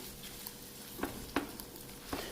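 A spoon stirs citrus and garlic shrimp pasta in a pan, giving a few soft scraping strokes over a low sizzle, with about three distinct clicks spaced across the short stretch.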